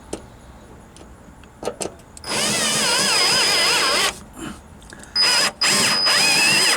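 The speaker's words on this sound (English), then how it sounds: "Put my first sheet metal screw through." A drill driver runs two sustained bursts, driving a sheet metal screw into the body of a Jeep Wrangler YJ during a rock light install. The motor pitch wavers under load, with short clicks and handling noises between the runs.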